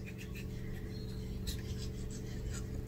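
A knife scrapes the gel from an aloe vera leaf in a series of short, quiet, rhythmic strokes close by, with no one speaking.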